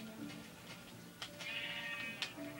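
Sheep in the video game Minecraft bleat in a few short, faint calls over a low background hum, with brief clicks between them and no talking.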